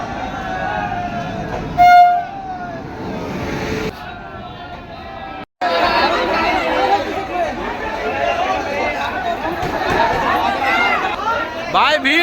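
Dense crowd of passengers packing a busy railway platform on the way to the Mahakumbh Mela, loud overlapping chatter and shuffling with voices talking close by throughout.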